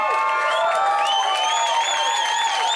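An audience at a Sea Shepherd benefit cheers for Captain Paul Watson, with high whoops and whistles riding over a dense, steady roar of crowd noise.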